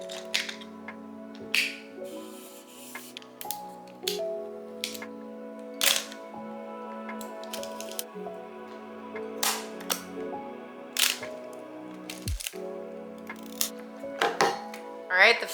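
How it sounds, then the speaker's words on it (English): A roll of 35mm film is loaded into a film camera: sharp clicks and snaps from the mechanism come at irregular intervals, close up, over a steady background hum. "the film is all loaded up and ready to go"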